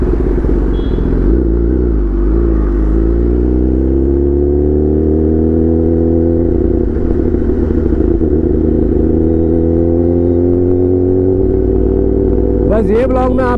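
A Kawasaki ZX-10RR sport motorcycle engine drones steadily, then builds in rising revs with rumbling exhaust, heavy and close throughout, with brief voice-like sounds under the engine.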